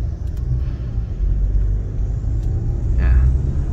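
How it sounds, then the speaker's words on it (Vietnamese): Busy Saigon street traffic with cars and motorbikes in heavy congestion, a loud, steady low rumble of engines passing close by. "Ngày hôm qua và ngày hôm nay là hai ngày đường phố rất là đông, có thể nói là đi kẹt xe luôn."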